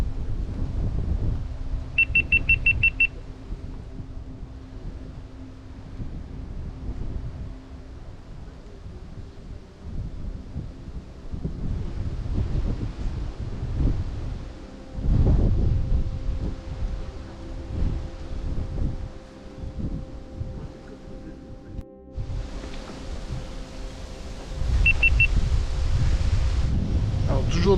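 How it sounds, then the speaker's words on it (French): Wind buffets an outdoor microphone beside the Lac des Cammazes reservoir near its dam, a steady low rumble broken by loud, gusty blasts, with fainter background sound between the gusts. "Toujours désolé pour le vent les amis"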